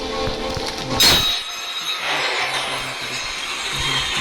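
A train in the video game Granny 3 rumbles along with a sharp metallic screech and clatter at the start, then a steady rolling drone with faint rhythmic clunks.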